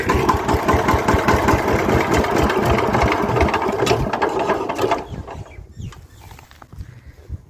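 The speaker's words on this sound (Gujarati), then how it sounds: "ટ્રેક્ટરને કરી દઈ ઘડીક બંધ" A tractor engine idles loud and close with a steady mechanical chug for about five seconds, then cuts out and fades to quieter ticking and low rumble as it shuts off.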